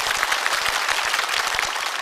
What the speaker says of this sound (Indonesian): Kasih tepuk tangan dulu dong Bapak Ibu sekalian